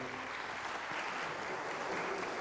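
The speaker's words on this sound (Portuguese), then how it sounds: "Deus abençoe as palmas ao Senhor Jesus" Steady, dense applause fills a church ceremony at an evangelical church's solemn 70th anniversary session, a continuous even clapping from a large crowd throughout.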